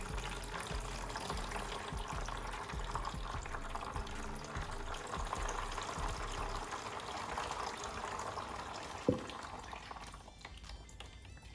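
Water is poured steadily onto dry coconut chip substrate around a Phalaenopsis orchid, a continuous close splashing trickle with a small knock near the end.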